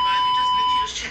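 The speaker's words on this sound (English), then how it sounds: "I have a beep that you can add on there." A steady electronic beep sound effect from the iMovie editing app, a single sustained tone lasting about a second and tapering off at the end, heard alone and fairly loud.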